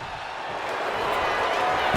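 A capacity crowd at a WWE wrestling match roars in a dense, steady wall of cheering that swells slightly louder over two seconds, with no clear breaks.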